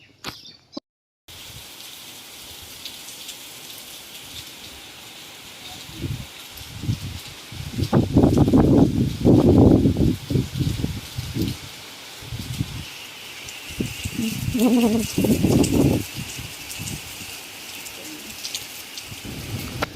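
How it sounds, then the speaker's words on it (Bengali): Heavy rain hisses steadily outside, with louder bursts of rattling and splashing rising and falling over the second half. "বাইরে খুবই বৃষ্টি হচ্ছে"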